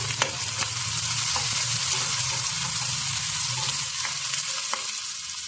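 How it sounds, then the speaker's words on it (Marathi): Chopped tomato with onion sizzles and fries steadily in hot oil, a close, continuous crackle with occasional clinks of stirring. "एक टोमॅटो घेतलाय, ह्यालाही चांगलं परतवून घेऊया।"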